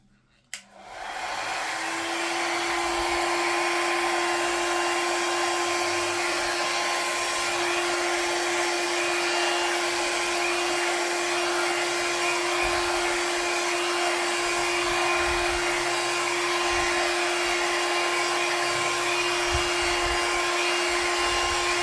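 A hair dryer blowing air onto freshly poured acrylic paint in a Dutch pour, switched on after a short quiet moment and then running as a loud, steady whirring hum with a constant whine throughout.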